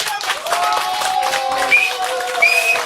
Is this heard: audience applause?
yes